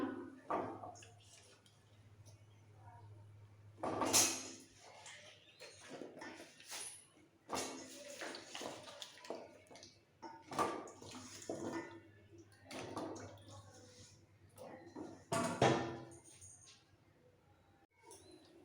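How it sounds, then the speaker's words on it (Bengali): Raw mango pieces drop into a pot of boiling water in a home kitchen, making several soft splashes and watery sloshes a few seconds apart, faint and fairly close. "জলটা ফুটে গেছে এই সময় দিতে হবে কাঁচা আম"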